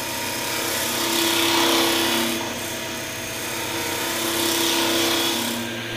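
A wood lathe turns while a chisel cuts a cove in a round blank, a continuous close scraping whir with a low motor drone that swells and eases in gentle waves.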